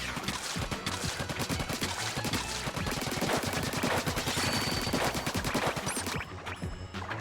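In the Splatoon video game, a Butane Blast weapon fires in a rapid, steady stream of sharp, loud shots with a fast, even rhythm that continues almost to the end before cutting off.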